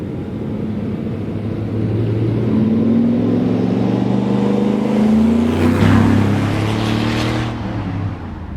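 A used ICON FJ43 truck drives along with a steady, loud engine drone and road rumble, rising slightly in pitch midway, with no talking.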